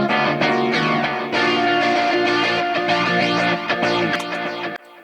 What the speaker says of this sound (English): I add a little bit more distortion through the decapitator plugin. And then I add flanger.